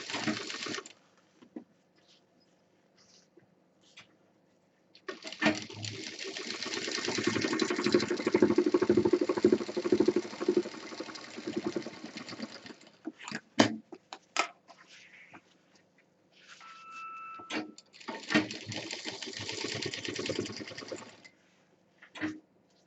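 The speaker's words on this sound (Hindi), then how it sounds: "फोल्ड करेंगे और यहाँ से सिल देंगे।" A sewing machine stitches fabric for a homemade college bag, running in steady whirring bursts with a rapid needle rhythm. The stitching is separated by quiet pauses and small handling sounds.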